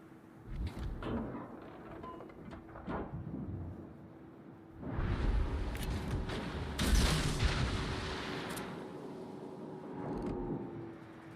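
Ship guns firing during a World of Warships destroyer battle, a series of deep booming salvos with rumbling tails, loud and close, the heaviest burst midway and further shots trailing off.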